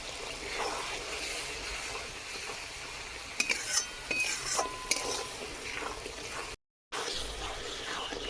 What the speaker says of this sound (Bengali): মশলা তলায় বসে যাচ্ছে খুব সামান্য জল দিচ্ছি